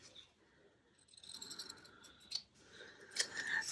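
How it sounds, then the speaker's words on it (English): Scissors snipping a piece of fabric for a botanical craft kit. Quiet, close cutting with a couple of faint sharp snips near the end over soft rustling. "I'm just going to cut this corresponding piece of fabric"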